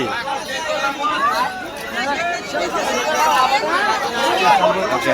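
A dense crowd chatters continuously at a packed bullock ornament market before a Rajur Ganpati fair, with many overlapping voices forming a loud, steady hubbub.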